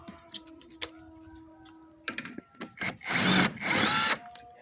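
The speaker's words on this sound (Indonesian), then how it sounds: "Kita pakai impact ya biar cepat." A power impact wrench runs in loud bursts while loosening the front shock absorber bolts on a Toyota Etios Valco, following scattered metallic clicks and tool handling near the work.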